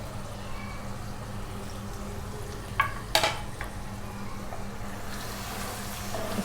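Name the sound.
mutton with chili, turmeric, salt and coriander frying in a clay pot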